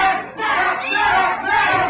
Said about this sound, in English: The crowd loving this action.